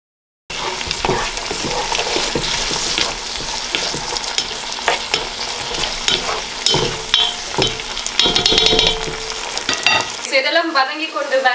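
Onions and tomato sauté in a pan over low heat for biryani, a dense continuous sizzle close up with occasional clinks and scrapes of stirring, ending abruptly in a short burst of music.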